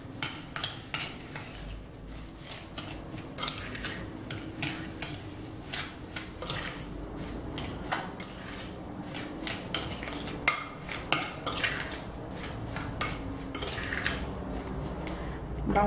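Spoon scraping and clinking against a bowl while black bean cookie dough with egg and sugar is stirred, a steady run of close metallic taps and scrapes with no talking.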